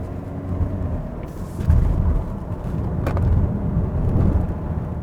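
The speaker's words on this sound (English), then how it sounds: "And now let's drive this new Santa Fe," A 2021 Hyundai Santa Fe pulls away, its low engine rumble and road noise steady and close, with a couple of brief knocks or thumps partway through and no talking.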